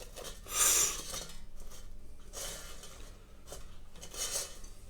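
Fried chicken steaks being turned over in an ALDI air fryer basket, three brief scraping and rubbing bursts of tongs against the basket, fairly quiet and close.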